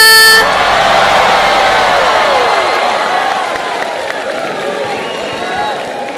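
An audience at the Miss World 2025 grand final in Hyderabad erupts in loud cheering for India's contestant. Blaring horns mix in, and the roar holds strong before easing slightly toward the end.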